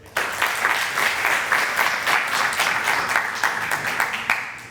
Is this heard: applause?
yes